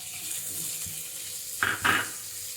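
Green chillies and onion dropped into a hot pan for a horse gram soup: a soft background sizzle, then two sharp crackling bursts as the ingredients hit the oil, close and loud.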